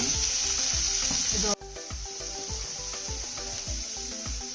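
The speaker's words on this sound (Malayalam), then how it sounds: "ഒരു 2 ഉള്ളിയാണ്, 2 മീഡിയം സവാളയും 1 തണ്ട് കറിവേപ്പിലയാണ് ഇട്ടേക്കുന്നത്" Shallots, onions and a sprig of curry leaves sizzle in hot oil for a Kerala fish curry, a dense, steady hiss that dips briefly partway through before resuming, under a faint rhythmic background beat.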